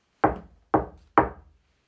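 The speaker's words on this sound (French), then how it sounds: "Il frappa à la porte." Three knocks on a wooden door in a Little Red Riding Hood film, evenly spaced about half a second apart, close and sharp, with no voices.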